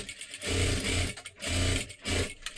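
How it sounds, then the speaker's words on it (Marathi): A sewing machine stitching a princess-cut blouse runs in three loud, close bursts of steady whirring stitches, separated by short pauses, with no talking. "अशी शिलाई मारून घ्यायची."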